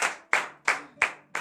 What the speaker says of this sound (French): Donnez de vive acclamation à notre Seigneur Jésus.